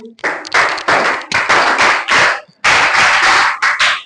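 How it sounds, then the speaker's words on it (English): Students in a classroom clap loudly and close by for a classmate, in rapid bursts of hand claps with a brief pause midway before the clapping resumes. "Okay, clap for him."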